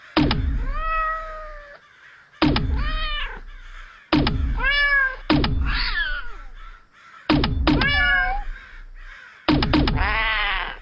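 Radio play effect of cats fired from a cat launcher: a series of five or six sharp thunks, each followed by a loud, close, drawn-out meow, with brief silences between them.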